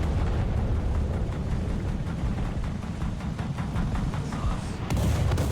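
Artillery shells bursting close by in the tank game War Thunder, a continuous heavy rumble of booms and blasts filling the clip at high level, with a sharper burst near the end.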